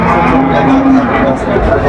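Cattle lowing at a crowded Pabna livestock market where heifers and Holstein cows are sold, with a drawn-out moo rising over dense background hubbub and nearby voices murmuring throughout.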